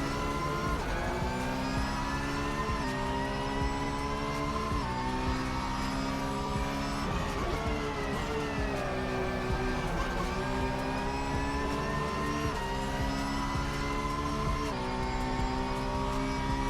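Race car engines in the Assetto Corsa racing game at Spa whine and rev continuously, their pitch rising and dipping through gear changes. Several cars sound close together, loud and steady, with no voices.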